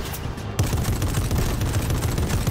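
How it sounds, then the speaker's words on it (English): Rapid gunfire from the video game Fortnite, a dense continuous burst of shots that stays loud and sustained throughout after a brief quieter moment at the start. "I can't shoot him because Parker's in the way"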